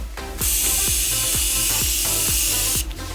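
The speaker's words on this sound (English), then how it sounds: "Can you spray it at my face?" A steady, close hiss of makeup setting spray runs for about two and a half seconds, sprayed at a face, with faint rhythmic clicks underneath.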